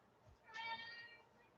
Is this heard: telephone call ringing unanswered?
no